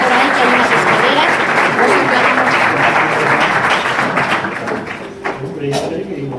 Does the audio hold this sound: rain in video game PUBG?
no